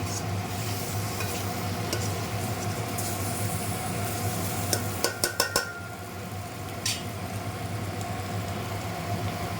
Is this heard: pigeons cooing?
no